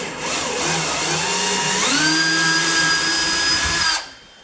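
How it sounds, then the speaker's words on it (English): Power drill backing a screw out of an aluminum boat's rear deck, a close, loud motor whir that rises in pitch as it spins up, holds steady for about two seconds, then cuts off. "Hopefully we can get that out without stripping it."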